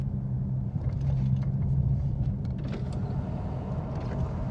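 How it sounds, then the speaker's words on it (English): A vehicle with a Pentastar V6 engine, one with thermostat issues, is driven on the road: a steady low engine and road rumble with a faint hum, heard from inside the cabin and with no talking. "Best way to tell is to go for a drive. We're gonna drive it."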